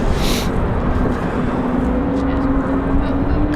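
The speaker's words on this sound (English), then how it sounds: "A couple of A220s on the move again for Breeze Airways." A Breeze Airways Airbus A220 taxis at RDU airport with a steady engine whine and a low rumble under gusty wind, heard from a distance.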